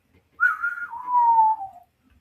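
A single person whistles a short phrase of a theme: a clear, bright rising note, then a long gliding tone that falls away, alone against near silence.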